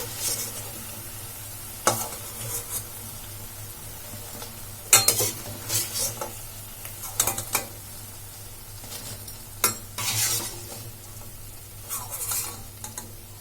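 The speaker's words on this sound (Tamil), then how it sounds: "எல்லா பக்கமே ஆயில நல்லா ஃப்ரை ஆயிடுச்சு நம்ம எடுத்துடலாம்" Tea-shop style bondas fry in hot oil, with a continuous soft sizzle broken by repeated scrapes and clinks of a ladle against the pan as they are turned and lifted.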